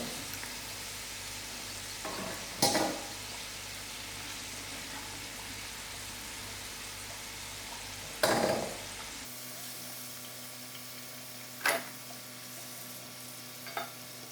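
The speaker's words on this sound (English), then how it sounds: "Now we're going to let it fry until it's golden brown" Steady low sizzle of potatoes frying in oil, with a few sharp clatters and scrapes over it; the hiss drops lower partway through.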